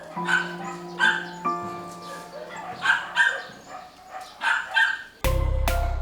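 Several rescued dogs at an animal shelter bark and yip in short bursts, fairly close, with some whimpering between, ending in a sudden loud burst of noise.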